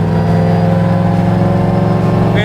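Supercharged Wegner LSX 427 V8 in a 1967 Camaro restomod pulling under acceleration in gear uphill, a loud, steady, deep droning engine note heard from inside the car, with no talking.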